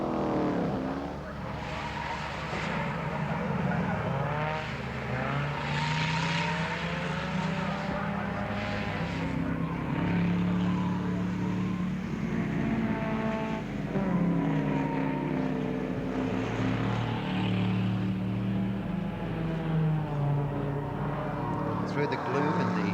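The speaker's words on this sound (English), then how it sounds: "the little Mini could come up and challenge these 2 larger cars as they come down the straight" 1960s series production touring cars, a little Mini chasing two larger cars, roar down Hume Straight at Warwick Farm Raceway. Engines drone steadily with a brief tyre squeal, partly buried under continuous commentary.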